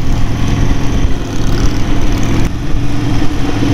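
Harley-Davidson motorcycles on a group ride near Chatsworth: a loud, continuous low engine rumble close by that dips briefly midway and then keeps roaring, with no talk over it.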